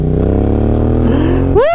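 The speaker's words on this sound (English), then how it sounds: "Listen to the soundtrack, man. Sounds better than the MT-09." A Yamaha MT-07 motorcycle idles loud and close with a steady low exhaust burble, ending in a brief rising rev near the finish.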